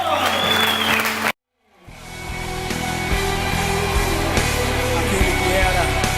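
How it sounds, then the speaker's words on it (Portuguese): A church congregation claps for the Lord after prayer; an abrupt cut to silence is followed by applause swelling back in, steady dense clapping mixed with a low hum and background voices. "aplauda o Senhor"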